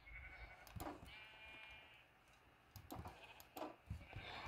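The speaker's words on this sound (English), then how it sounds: "Yes, we have got a lot of sheepies." Sheep in the Minecraft video game bleat several times in short, separate calls over a few seconds, fairly quiet and close, with no speech over them.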